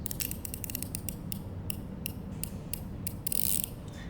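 Music box mechanism running without its tune, a quiet close series of ratcheting clicks and small gear ticks, irregular and mechanical, with a brief louder scraping burst near the end.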